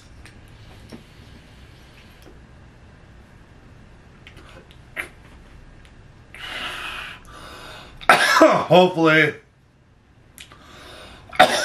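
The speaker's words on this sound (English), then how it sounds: "like this horrible cough I have right now" Coughing from a person with a bad cough, a few harsh bursts in the middle standing out loudly over quiet background noise, with brief speech near the end.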